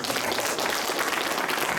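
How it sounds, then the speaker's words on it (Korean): Brief burst of audience applause during a lecture on AI held at a Seoul prosecutors' office, thick continuous clapping throughout a couple of seconds. "그게 맞으면 박수 부탁합니다."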